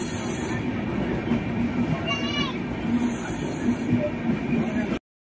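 A passenger express train runs into Barauni Junction with a continuous rolling rumble and faint squeals of wheels on rail, steady and close before cutting off abruptly.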